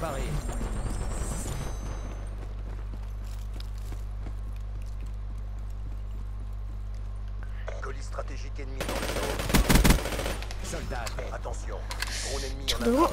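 Bursts of automatic gunfire from a weapon in a shooter video game, a dense loud volley around the middle over steady game music and background noise, with scattered shots near the end.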